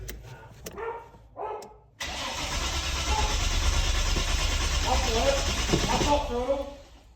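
Nissan Skyline R31 / Holden VL Turbo engine cranks with no fuel, a sustained loud churning starter rumble that never catches, preceded by a few short bursts; a dog barks and people talk faintly around it.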